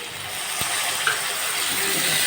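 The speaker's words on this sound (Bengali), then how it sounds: "রসুনটা ভাজা হয়ে গিয়েছে, এখন দিয়ে দিব একটু পানি" Water poured into a hot pan of fried garlic while cooking arum root curry, a steady hissing gush with a brief splash, close and fairly loud with no talk.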